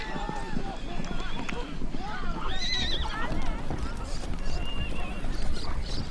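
Horses neigh and whinny repeatedly over the clip-clop of hooves on open steppe pasture, with a Spanish-speaking narrator talking over the herd.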